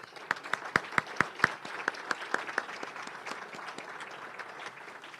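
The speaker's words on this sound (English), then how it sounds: "Let's give them a round of applause." Moderate applause from a meeting audience at a Rotary Club of Madison luncheon, a few distinct loud claps up front over a steady patter of hands that tapers off, no talk.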